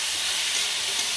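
Grated carrots frying in ghee for gajar halwa, a steady bright sizzle with no breaks, heard up close and alone.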